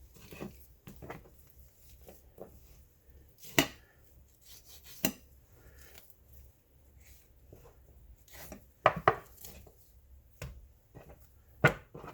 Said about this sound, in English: So I'm just scoring up against these bones.